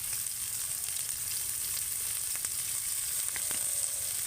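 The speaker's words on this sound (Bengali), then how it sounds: "এবার আমি এগুলোকে তেলের সাথে হালকা করে ভেজে নেব" Chopped onion, capsicum and green chili fry in oil, giving a steady, even sizzle that carries on without a break, close by and moderately loud.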